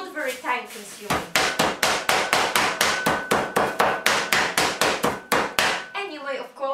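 A pork cutlet sealed in a plastic bag is hammered with a meat basher, producing a long run of fast, regular, loud smacks, close and steady, framed by brief talking before and after.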